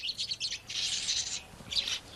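Galápagos finches chirp in a series of high, quick twittering bursts, some closely spaced and others with short pauses between them, fairly close and alone with no voices.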